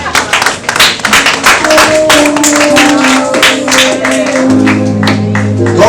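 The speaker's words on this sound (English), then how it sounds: "Clap for Jesus." Loud, fast rhythmic clapping from a church congregation, sharp dense claps, with a sustained tone and a voice coming in near the end.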